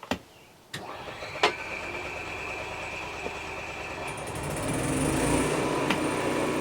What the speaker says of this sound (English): Okay, so we got the generator running right now